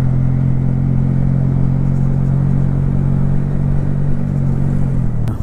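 A motorcycle on a mountain road from Lete toward Kathmandu, engine braking in second gear, gives a steady, loud, close low drone with a constant pitch that drops slightly near the end.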